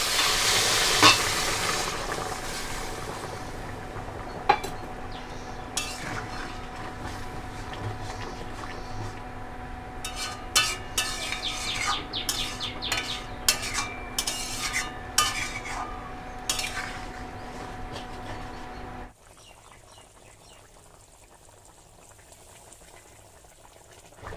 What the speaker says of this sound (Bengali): এবার আমি অল্প পরিমাণে জল দেবো যেহেতু আলু পটল দুটোই ভাজা সেই কারণে একদম সামান্য জল দেব দিয়ে দেবো উষ্ণ গরম জল